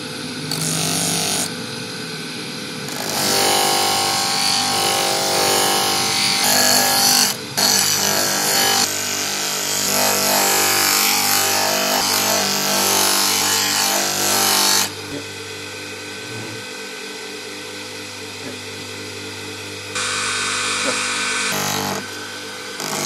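Harsh scraping from sanding a rusty knife blade with 120-grit sandpaper comes close by in long, uneven bursts with short pauses between strokes. A steady low hum runs underneath.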